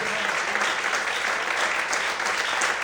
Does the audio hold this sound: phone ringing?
no